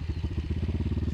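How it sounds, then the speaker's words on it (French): An Apollo RXF 150 dirt bike with an electric starter cranks and turns over in a rapid, even mechanical chug, close and loud, pulsing steadily for the whole moment without voices. "Le démarreur électrique putain."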